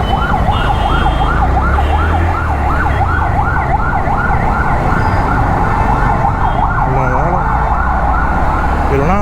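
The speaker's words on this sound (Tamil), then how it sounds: "ஆம்புலன்ஸ் ஓடுதா?" An ambulance siren wails continuously in Chennai traffic, loud and close, its rising-falling cycles steady over heavy road rumble and engine noise, with the pattern shifting toward the end.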